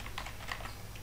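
Rapid keystrokes clatter on a computer keyboard as an email address is entered into an online registration form, a quick close burst of light clicks with no talking.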